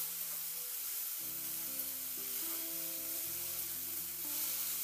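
Salted drumstick flowers fry in a pan while being stirred, giving a steady, even sizzle and hiss throughout, with a low tonal hum underneath.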